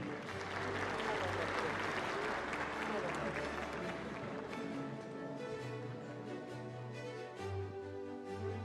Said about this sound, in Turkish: alkışlarınızla sahneye davet ediyoruz